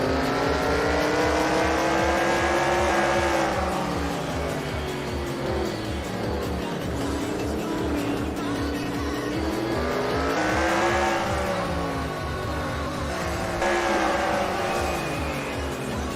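Race cars in the NR2003 game roar around a track in single file, engines loud and continuous with rising and falling pitch as they accelerate, pass and brake, with occasional tire squeal.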